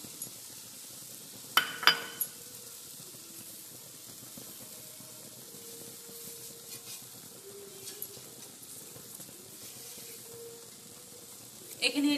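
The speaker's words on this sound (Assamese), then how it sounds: "লগতে ভাজি লোৱা চুজিখিনি ইয়াৰ লগত মিক্স কৰি দিছোঁ।" Fried semolina is stirred into a coconut, condensed milk and sugar mixture in a pan over low gas, a quiet steady hiss with a few sharp clinks of the spoon against the pan.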